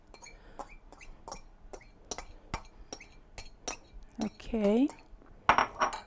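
A spoon clinks against a bowl while stirring macerated onions and vinegar into an olive oil dressing, giving a run of sharp, close metallic taps spread across the clip; a voice speaks briefly.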